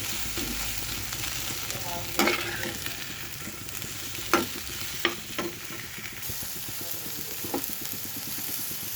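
Garlic paste fries in a pan with a soft, even sizzle under occasional clacks of a stirring spoon, close and quiet with no speech.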